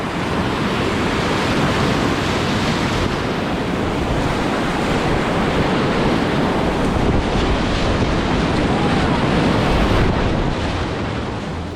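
Whitewater rushing and boiling through the Tourist Trap eddy at the US National Whitewater Center, a loud, continuous broadband roar with wind buffeting the microphone, no talking.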